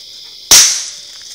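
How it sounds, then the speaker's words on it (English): A single sharp gunshot cracks loudly and close during coon hunting training with a puppy, then its echo decays over about half a second against quiet outdoor background. "You gotta get used to these gunshots"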